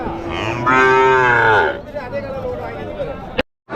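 Cows at a Friday cattle market in Uthangarai give a loud, close drawn-out moo, followed by market murmur and voices, ending in a sudden brief cutout.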